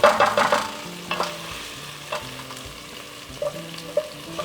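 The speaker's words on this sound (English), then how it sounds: "mix that all together" Crushed red pepper mix gets stirred in a hot pan as braised beef short ribs are prepared, with a close sizzle under repeated scraping strokes and spoon knocks. No one speaks.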